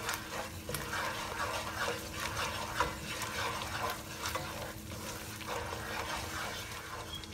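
Curry sauce with curry powder for a vegetable korma sizzles steadily in a kadai while a spoon scrapes and stirs it in repeated strokes, close and fairly loud, with no talking.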